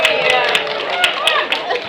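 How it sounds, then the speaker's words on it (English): A class of children and adults clapping together in a bright burst of applause, close and lively, with voices talking over it. "Give yourselves a big round of applause, everybody."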